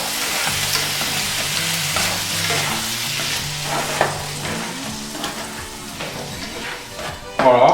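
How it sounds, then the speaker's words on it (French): Chickpeas and tomato pulp are stirred in a hot pan, giving a loud, continuous sizzle with wet scraping, and a voice is faintly present underneath. "On mélange un petit peu."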